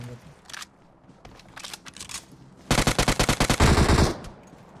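Automatic gunfire in PUBG Mobile: a few scattered shots, then a loud, rapid burst of about a dozen rounds, with quiet voices beneath.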